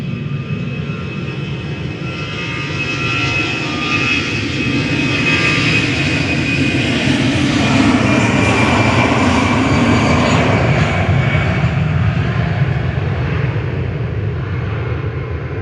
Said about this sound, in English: Heading back to Dublin, flight 203 for Aer Lingus.